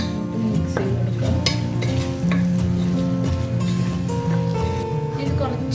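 Chicken biriyani ingredients are stirred and fried in a pressure cooker, giving a continuous close sizzle with frequent scraping and clinking of a spoon against the pot, while a voice talks over the cooking.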